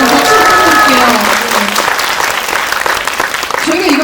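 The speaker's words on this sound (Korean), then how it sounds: "박수" A cinema audience at a film Q&A screening applauds loudly and steadily, with excited voices and cheers rising over the clapping.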